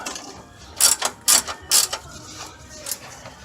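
Several quick ratcheting clicks as a fuel filter is tightened on a Jaguar, close and sharp in short bursts with quiet gaps between.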